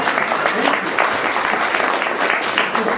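Steady applause from an audience at a library reopening ceremony, a dense, even patter of many hands clapping throughout, fairly loud and continuous.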